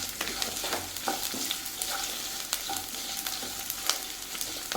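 Garlic sautéing in a pan for garlic chicken, a moderate close sizzle with repeated spatula scrapes and taps, no voices.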